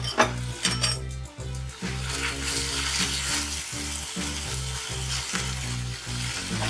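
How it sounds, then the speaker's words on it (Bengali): Green chilli paste and turmeric frying in a pan with a loud, steady sizzle, while a metal spatula scrapes and clinks against the pan in repeated close strokes, with no voices. "একটু ভালো করে মিশিয়ে নিতে হবে।"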